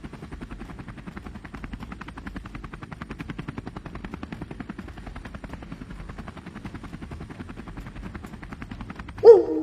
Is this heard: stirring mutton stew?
no